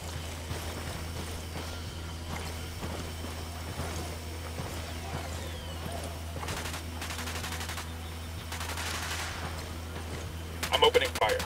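Gunfire in the video game Ghost Recon Wildlands during a mortar side mission: dull shots thud over a steady low hum, then rapid automatic bursts rattle in short clusters, with a louder burst near the end.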